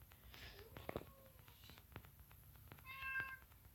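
Several house cats meow at a door in a few short calls, the last and loudest cries near the end, with faint footsteps and shuffling in the background.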